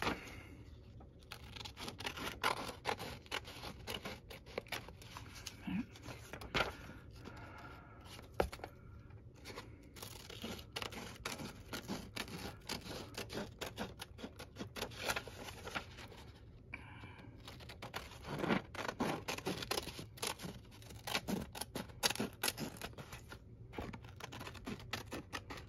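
Scissors cut through a freezer paper pattern, producing dense, quiet snipping and crackling paper sounds that continue steadily and close by throughout.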